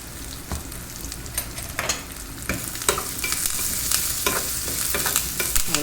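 Spices and a little asafoetida crackle and sizzle in hot oil as a tempering for Thanjavur kathamba sambar, with steady frying noise broken by sharp pops and stirring scrapes. No voices are heard.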